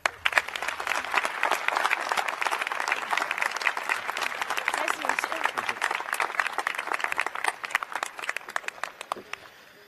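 Warm applause from a commencement ceremony crowd welcoming a guest speaker, dense clapping with distinct individual claps that gradually thins and fades, with a brief voice greeting near the end.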